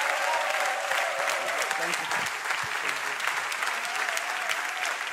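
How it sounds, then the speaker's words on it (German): Steady applause from a church congregation welcoming a pastor to the stage, a continuous dense patter of many hands with cheering voices mixed in, loud and unbroken throughout. "I give a big hand"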